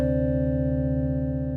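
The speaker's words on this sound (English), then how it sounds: "in engine 2, we have a wavetable called Melancholia," A steady, sustained synth tone from the Arturia Pigments wavetable "Melancholia" in an ambient patch, bright and sine-like with stacked even harmonics, holding level without change for its whole length, alone with no voices.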